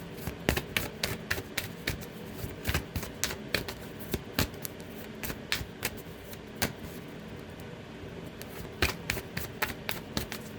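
Tarot cards shuffled by hand, heard close as a steady run of crisp, irregular riffling snaps and taps lasting several seconds with no talking.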